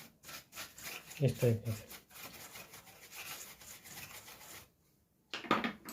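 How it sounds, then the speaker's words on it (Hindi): A brush scrubs the CPU socket of a Dell Vostro laptop in short, close rubbing strokes. The scrubbing pauses briefly, then resumes, and someone speaks over part of it. "इसको हम किसी भी ब्रश से साफ़ कर सकते हैं"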